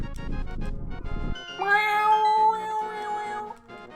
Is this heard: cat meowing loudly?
yes